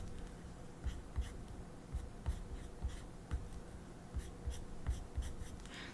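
Pencil drawing on paper, quick scratchy strokes repeating in an irregular rhythm, close and fairly soft with no voices.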